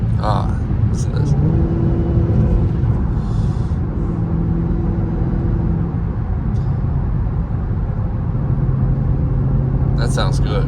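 Dodge Hellcat engine with its supercharger whine, heard from inside the car during a morning traffic drive, with a steady loud rumble and tonal whine rising and falling as the revs change.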